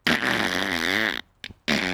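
A man lets rip a long, loud fart on command, a drawn-out buzzing blast of over a second, followed by a brief quieter sputter and then another loud burst.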